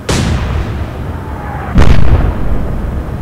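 Naval guns fire in the Atlantic Fleet warship game: a loud sharp boom opens, a second heavy blast follows just under two seconds later, and a rumbling roar trails after each with no talk.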